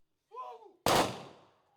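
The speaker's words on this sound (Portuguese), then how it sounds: "Houve salva de tiros." A voice speaks briefly, then a single sharp gun salute volley cracks loudly and rings out with a fading outdoor echo.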